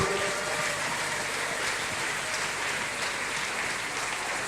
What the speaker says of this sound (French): Acclame d'abord avant que je te dise quelque chose.